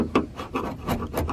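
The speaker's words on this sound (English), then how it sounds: "In this case, I'm going to be using a screwdriver." A screwdriver scrapes at the body of a 1979 Honda Prelude during paint prep, with repeated short rasping strokes in an uneven rhythm, close and moderately loud, with no talking.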